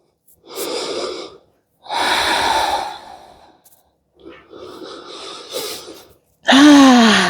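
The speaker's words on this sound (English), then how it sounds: "You guys will hear me breathing very closely in this one." Close, heavy breaths into the microphone, several loud inhales and exhales separated by short pauses, ending in a louder voiced sigh.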